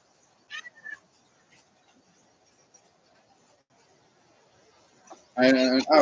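A cat gives a short meow near the start, then a faint second call, with a voice speaking loudly at the end.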